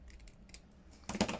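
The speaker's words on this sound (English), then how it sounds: "I can just nibble the rest out with my scissors." Scissors snip paper for a stamped-circle embellishment, with soft, close clicks followed by a sharper burst of cutting near the end, faint and quiet overall.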